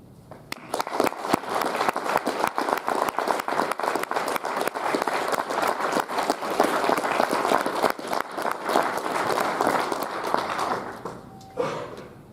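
An audience claps after a Friday night keynote talk at the NESC conference, sustained, lively applause that begins abruptly, holds for about ten seconds, then fades out.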